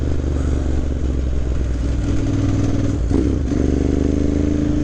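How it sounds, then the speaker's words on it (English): A 2009 Ducati Monster 1100 with its V-twin engine is ridden at steady speed, giving a loud, continuous close-up drone with a brief dip and shift in pitch midway, with no voices. "The Ducati Monster 1100 is a thoroughbred performance machine"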